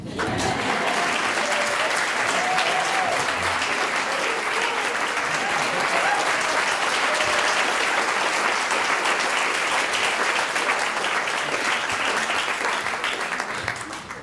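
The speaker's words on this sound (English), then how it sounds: "How about some applause for your mom?" Sustained, enthusiastic applause from a large audience, steady and full throughout, with faint voices mixed into the clapping.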